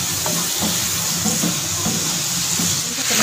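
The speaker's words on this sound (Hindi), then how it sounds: "और इसको घी में हम तब तक फ्राई करेंगे तब तक इसका मुकम्मल चारों साइडों से कलर एक जैसा ना हो जाए" Chicken pieces frying in hot ghee in a pan for a chicken pasta, a steady close sizzle with light crackling and occasional stirring clatter throughout.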